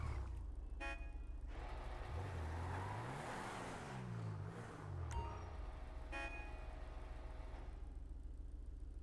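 Car engine in GTA FiveM roleplay driving to the mechanic, a low steady hum with revs rising and falling in the middle, plus a few short clicks and chimes, fairly quiet throughout.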